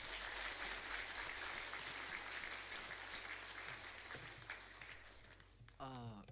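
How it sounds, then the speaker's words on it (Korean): A church congregation at a Sunday service claps in encouragement for a father and son pastor pair, a steady wash of applause that is faint and distant, with a voice briefly speaking near the end. "그러니까 격려의 박수 좀 한번 해주세요."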